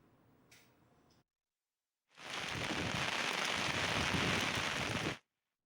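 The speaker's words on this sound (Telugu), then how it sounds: "ఉమ్మడి నిజామాబాద్ జిల్లాలో కూడా వర్షాలు దంచి కొడుతున్నాయి." Heavy torrential rain pours down steadily during monsoon downpours in the Nizamabad district of Telangana, a dense loud hiss lasting about three seconds after a quieter opening and a brief gap, then cutting off.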